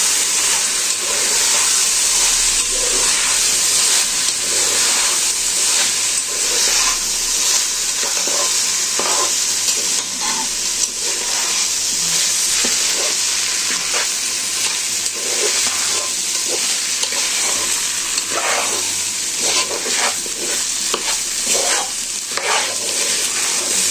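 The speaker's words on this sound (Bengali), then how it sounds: "বিরিয়ানির চালটা একটু বেশি করে ভাজতে হবে, কড়া করে ভাজতে হবে।" Biryani rice for a shahi mutton biryani frying and being stirred in a pot, a continuous close sizzle with repeated scraping and stirring bursts over steady hissing, no voices.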